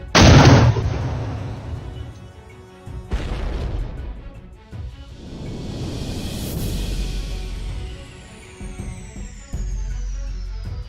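Battlefield gunfire and explosions during a Javelin missile attack on Russian armor near Bakhmut, Ukraine: a loud opening blast, then heavy booms and a long rushing roar with a rising whine, another sharp crack near the end.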